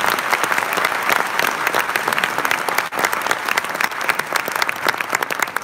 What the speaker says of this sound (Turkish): Bir alkış provası almak istiyormuş. Beni değil de hanımefendiyi bir alkışlayabilir miyiz?